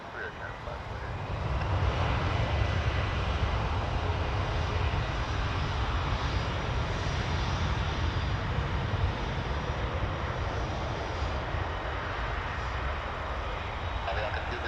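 A passenger airplane takes off at Toronto Pearson Airport, its engines a steady, loud broadband roar that swells early and holds throughout, with faint radio chatter underneath.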